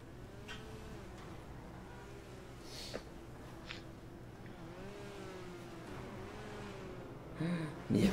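A small car drives close to runners, its quiet engine whirring and rising and falling in pitch as it moves, with a few short bumps and a louder burst of noise near the end.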